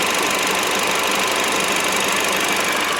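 A Honda Civic engine idles steadily with a constant hissing rush of air being drawn in through a small hole in the intake, loud and close with no voices.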